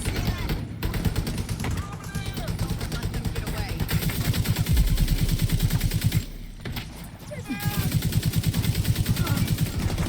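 Rapid automatic gunfire from a machine gun in the video game The Division 2, firing in sustained bursts with brief pauses, loud and close amid in-game action while a voice speaks over it.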